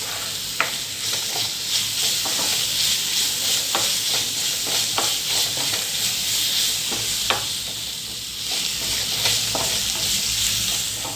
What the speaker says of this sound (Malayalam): ഇഞ്ചി ആ പച്ചക്കുത്തൊക്കെ മാറുന്നത് വരെ ഒന്ന് വഴറ്റി കൊടുക്കുക.